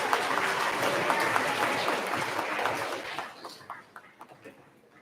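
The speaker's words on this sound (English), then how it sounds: "Let's give Mr. Jacoby's group a big round of applause." An audience at a middle school awards ceremony applauds loudly and steadily, then the clapping thins out and fades to scattered claps near the end.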